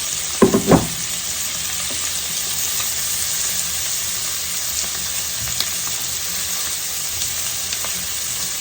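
Steady sizzle of oyster mushrooms being stir-fried in a pan, with a few sharp clatters of a utensil near the start and a continuous frying hiss throughout.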